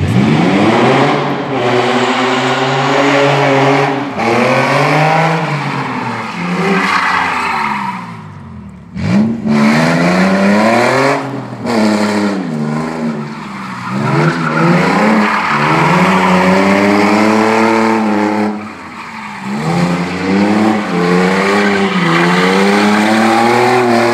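An Infiniti G35 drifting: a loud engine revs up and down in rising and falling sweeps while tires squeal almost continuously, with a brief dip midway before the screeching, roaring run resumes.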